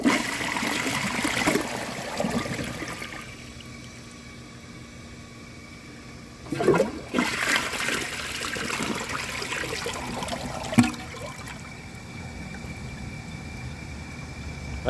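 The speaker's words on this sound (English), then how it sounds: "I think it's still going to stay clogged no matter how many times I flush it" Water rushes through a Vilbomex toilet being flushed with a washcloth and grocery bag inside, a steady gurgling swirl with two sharper surges partway through, close and alone with no talking.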